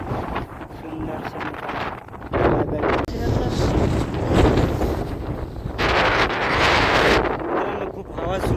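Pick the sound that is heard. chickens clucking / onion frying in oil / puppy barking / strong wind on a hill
strong wind on a hill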